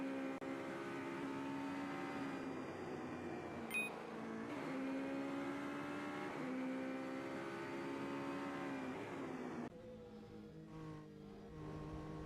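A race car engine in the SimSpeed Super GT video game holds a steady, droning pitch with shifts up and down as gears change, then drops off abruptly to a quieter rumble near the end.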